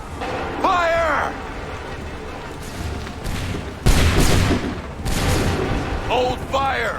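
Musket volleys crack out in Assassin's Creed III, with two broad loud bursts of massed fire echoing amid battlefield rumble, and shouted voices heard before and after them.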